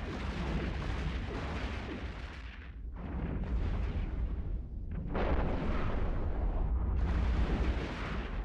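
Heavy explosive booms from smart bombs detonating among drones in a space battle in EVE Online, a dense rumbling roar sustained throughout with brief dips and repeated loud bursts.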